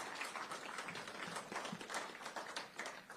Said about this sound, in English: Big round of applause for our podium in the 450s.